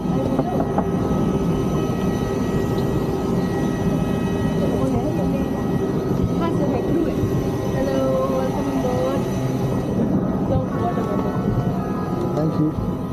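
Steady, loud aircraft cabin rumble aboard an IndiGo flight from Bagdogra to Bangalore, a constant broadband roar with no breaks, with faint voices mixed into the drone.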